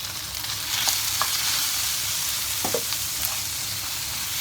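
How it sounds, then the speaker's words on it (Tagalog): Chicken breast strips sautéing in a pan give a steady broadband sizzle with occasional stirring clinks and scrapes, moderately loud and close, with no voices. "Igisa na natin siya."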